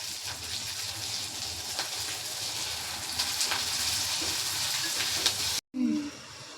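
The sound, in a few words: onions sautéing with salt in a pan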